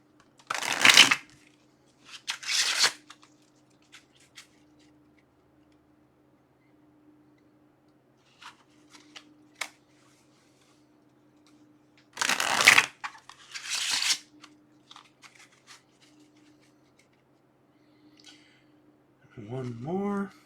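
Tarot cards are shuffled in a few quick riffling bursts separated by long quiet stretches, close up, with a short voice at the end.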